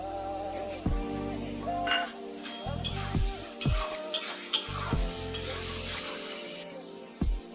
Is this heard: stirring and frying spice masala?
yes